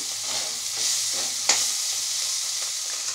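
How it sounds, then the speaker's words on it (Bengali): Spices and garlic paste for chicken curry are stirred in a hot pan, making a constant close sizzle with soft scraping strokes and one sharper clack of the spoon midway. "এখন আমি সেটাকে ভালো করে মিক্সচার করে নিচ্ছি, নাড়াচাড়া করে নিচ্ছি"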